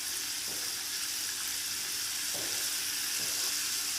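KFC-style chicken deep-frying in hot oil, a steady dense bubbling hiss that holds the whole time, close and fairly loud, with a few soft knocks in the pan and no voices.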